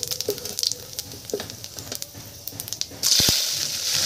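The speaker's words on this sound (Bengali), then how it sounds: "এবার ভেজে রাখা মাছটা কড়াইতে দিয়ে দেবো।" Fried rohu fish pieces hit a hot pan of cumin and ginger tempering, setting off a sudden loud, steady sizzle after a few scattered crackles and pops.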